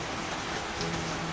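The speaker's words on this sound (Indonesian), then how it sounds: "ini suara hujan kedengeran nggak?" Rain pours outside as a soft, continuous wash of hiss, steady and moderately distant, with no voices over it.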